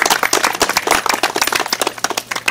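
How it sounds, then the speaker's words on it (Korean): A small audience claps to welcome a speaker to a local history talk, with distinct and somewhat uneven hand claps from a modest crowd close by, and no voices. "이상준 선생님 박수로 맞으면 한번 부탁드립니다."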